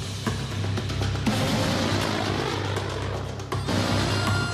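A heavily armed AC-130U gunship flies over a conflict zone, its propeller engines giving a loud, steady drone with a deep throbbing hum that holds for the whole stretch, with no voices.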